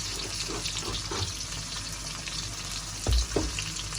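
Onion and green chillies frying in hot oil, a close, steady crackling sizzle with a couple of heavier knocks or thumps near the end.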